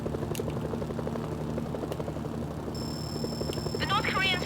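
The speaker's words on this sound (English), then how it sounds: "Incoming helicopters. They'll tear through the tanks." Helicopters in the video game Mercenaries: Playground of Destruction make a steady, chopping rotor drone with rhythmic pulsing throughout, joined by a high whine and some brief chirping noises toward the end.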